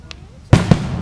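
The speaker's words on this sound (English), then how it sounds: "with the little crackle at the end" Fireworks at a backyard show go off in a loud sharp burst with a second pop right after it, following a faint early crack.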